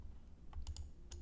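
A few quick computer keyboard key presses, soft clicky taps close together near the end of a brief, quiet moment.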